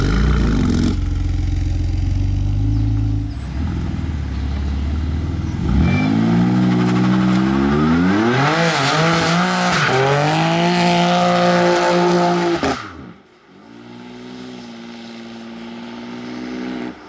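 A BMW M2 revs hard during an unplanned burnout, its engine note rising and falling through sweeping pitch changes over a sustained roar, then cutting out abruptly before idling more quietly.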